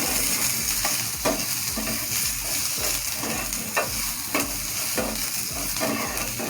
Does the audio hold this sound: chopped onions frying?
yes